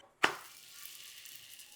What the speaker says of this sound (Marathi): तवा मध्यम गरम झाला. पराठा भाजूया.